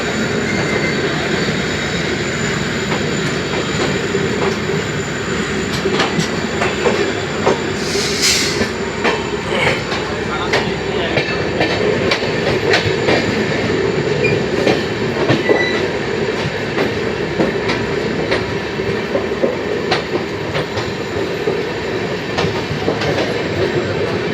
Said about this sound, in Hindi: तो वैसे सिंपली ट्रेन में रेस हो रहा है और सामने भी ट्रेन चल रहा है